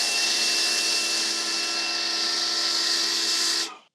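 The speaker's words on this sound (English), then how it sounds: "the machine sounded like it liked it better. Like it wasn't changing, it was just nice, smooth" A Fanttik NB8 Ultra portable electric pressure washer fitted with a 0.9 orifice nozzle runs with a loud, steady hissing spray and motor whine, smooth and unchanging, then cuts off abruptly at the end.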